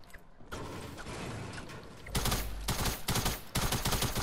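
Gunfire in Fortnite, fired at an enemy, comes as loud rapid bursts with short pauses between them, following a stretch of mechanical clatter.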